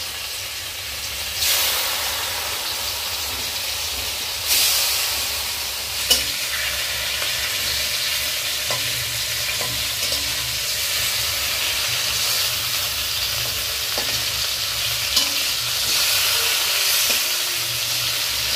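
Rui fish frying in a pan for a village-style curry, a steady broad sizzle and hiss throughout with occasional stirring scrapes and a few louder bursts of spattering, close and with no talking.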